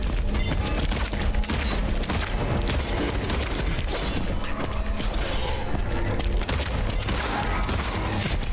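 Rapid gunfire in the Silent Hill 2 Remake video game, a sustained, loud barrage of shots with booming impacts and mechanical clatter running continuously for several seconds.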